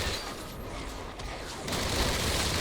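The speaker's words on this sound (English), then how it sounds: "Grenade launcher shot." A grenade launcher fires in the roguelike shooter Armatus, a dense, noisy burst that swells sharply partway through and holds loud, like an explosive blast with crackling debris.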